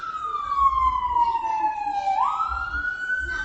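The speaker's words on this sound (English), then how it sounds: "I know y'all hear the ambulance coming" An ambulance siren wails, sweeping down in pitch then jumping back up, steady and fairly loud as it approaches, with low traffic rumble underneath.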